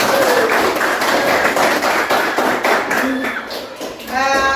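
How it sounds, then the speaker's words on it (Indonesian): A class of children in a school religion lesson clapping together, a steady, loud burst of hand claps with a few voices mixed in, continuing for several seconds before tapering off. "Tepuk tangan untuk kita semua."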